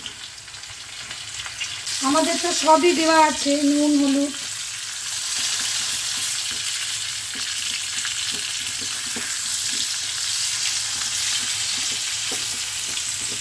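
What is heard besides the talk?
flat beans and potatoes frying and stirred in pan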